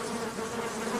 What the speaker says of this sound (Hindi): उसके चारों ओर अनगिनत मच्छर भिनभिना रहे थे।